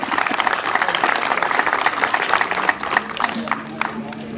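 An audience at a Walk a Mile in Her Shoes event applauds MLA Victoria Jurgens, with dense, steady clapping and some crowd murmur throughout.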